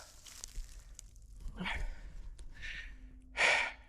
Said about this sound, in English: Sorry, I'm panting so bad.